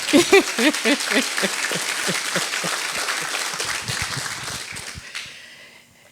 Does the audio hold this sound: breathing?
no